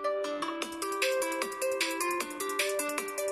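A melodic electronic ringtone plays alone, a bright repeating synth tune with steady rhythmic notes and no talking.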